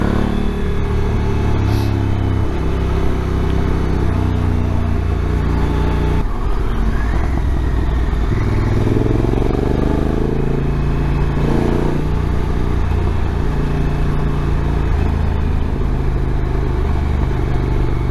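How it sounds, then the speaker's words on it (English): A Honda NT1100 motorcycle fitted with a Pipewerx end can exhaust ticks over at idle, a steady close low rumble with a few brief revs and clattering shifts, heard alone. "it's the same decibels at tick over as the stock exhaust"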